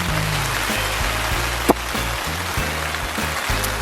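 Steady rain patters on a camp tent at Devils Kitchen in winter, a dense close drumming with rhythmic low flapping and one sharper tap, no voices.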